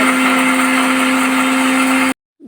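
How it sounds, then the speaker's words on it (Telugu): An electric mixer grinder runs at full speed grinding curry leaf powder with tamarind and salt, a loud, steady motor whine with a constant hum that cuts off sharply near the end, heard alone and close. "చింతపండు వేసుకొని మిక్సీ"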